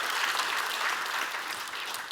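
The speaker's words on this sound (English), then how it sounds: "So that deserves a hand clap" An audience at Vinod Khosla's talk on startups claps steadily, a dense, even wash of hand claps filling the room for a couple of seconds with no speech over it.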